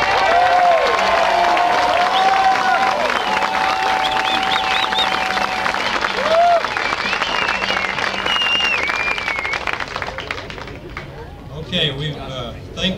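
An audience at a 1996 Jack Daniel's barbecue contest applauds in a steady, dense wash of clapping with some cheering, while a voice talks over it and the noise thins toward the end.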